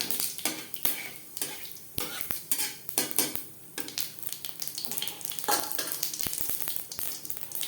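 Cumin seeds and green chillies fry in hot oil, giving a steady sizzle broken by frequent sharp clinks of a spoon against the pan, with no voices.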